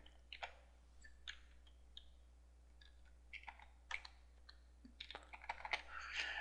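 Keys clicking on a computer keyboard while credentials are typed into Notepad, with bursts of fairly close presses in irregular runs that grow denser toward the end.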